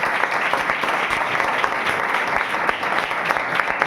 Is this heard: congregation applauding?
yes